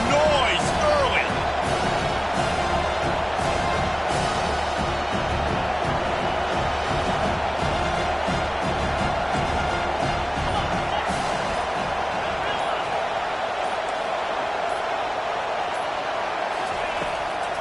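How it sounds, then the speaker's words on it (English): A stadium crowd at a football game roars in a dense, sustained wash of cheering and noise, loud and continuous throughout, with a commentator talking over it. "This crowd bringing the energy and noise early."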